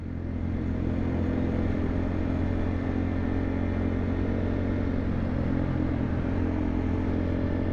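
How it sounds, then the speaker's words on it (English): Steady, loud roar of race car engines at a racetrack in Vietnam droning continuously, a dense mechanical hum that doesn't let up, heard from a distance. "Do you hear the engines?"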